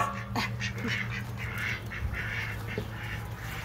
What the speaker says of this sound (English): You hear the ducks.